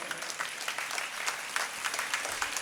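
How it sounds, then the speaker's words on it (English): Audience at a St. Ignatius of Loyola feast applauds the organizers with brisk, sustained clapping, dense and fairly close, holding steady for nearly three seconds. "So let's give a big thunder of applause to all the organizers"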